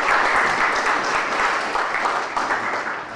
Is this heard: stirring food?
no